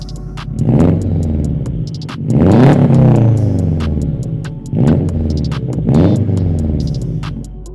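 A car engine fitted with unequal-length exhaust headers revs close by in three distinct bursts, each pitch sweep rising and falling with a throbbing, uneven burble between them.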